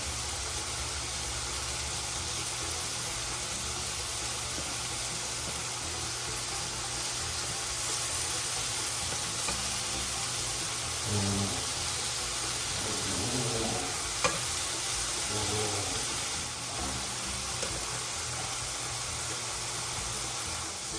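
Halibut cheeks frying in a pan over medium heat, a steady close sizzle running throughout with a low hum underneath and a few brief clinks or shifts partway through.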